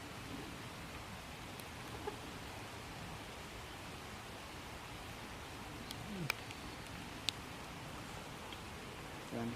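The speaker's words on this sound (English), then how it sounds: "It's raining." Rain falls steadily in the woods as a soft, even hiss that continues throughout, with a few faint ticks and knocks scattered over it and no talking.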